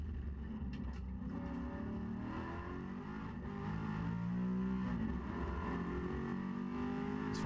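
Onboard a Maserati Trofeo race car lapping the Shanghai circuit, the engine drones steadily at high revs with a slight rise in pitch partway through, heard from inside the cockpit without speech.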